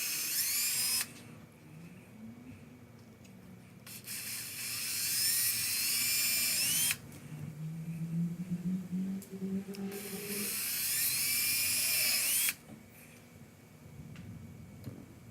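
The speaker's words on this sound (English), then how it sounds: "So I'm going to start and just drill this out." A power drill bores out a hole in a homemade jigsaw-based massager project, whining loud and high in two long bursts separated by quieter pauses with faint handling noise.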